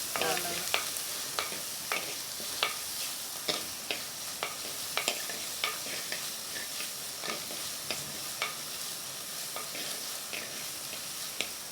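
Onions, tomatoes, crushed garlic and curry leaves sauté for a prawn curry in a clay pot, giving a steady close sizzle broken by regular sharp scrapes of a stirring spoon.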